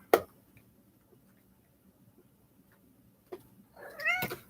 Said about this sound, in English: My cat keeps moving the pendulum.